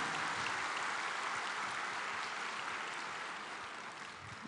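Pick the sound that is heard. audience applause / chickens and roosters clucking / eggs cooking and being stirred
audience applause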